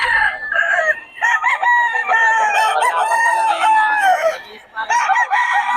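Several roosters crow loudly and close together at a fowl seller's place in Bocaue, overlapping calls filling the air with clucking between them.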